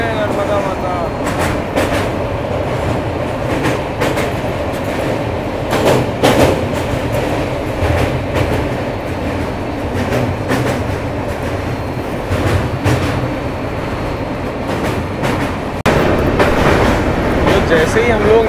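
August Kranti Rajdhani Express rolling toward Bharuch station after crossing the Narmada, a steady loud rumble with rhythmic wheel clatter and rattling carriage noise, with faint voices at moments.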